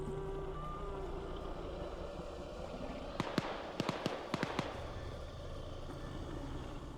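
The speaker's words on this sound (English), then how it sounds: "Hearing some more gunfire" A quick cluster of sharp gunshots, about seven, cracks out in a burst over a steady background hum, fairly loud and close.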